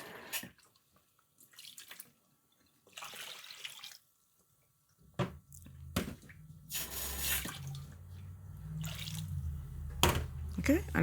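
Three cups of cold water poured for pearl barley porridge, a steady broadband splash running from about five seconds to the end, fairly close, with a few short knocks and brief talk earlier.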